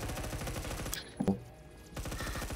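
Gunfire in a multiplayer shooter game, a rapid rattling burst of automatic shots that cuts off briefly, then resumes, sounding fairly loud with no talk over it.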